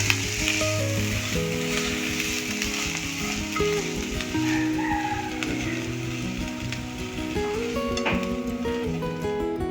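Ingredients for dosa batter fry in oil in a tarka pan, with a continuous close sizzle and occasional stirring clicks. Background music plays throughout.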